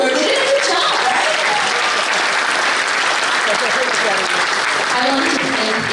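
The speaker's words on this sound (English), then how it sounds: "You can clap a little bit louder" Audience at a community evening event with Members of Parliament claps steadily and loudly for the whole stretch, dense sustained applause filling the room without pause.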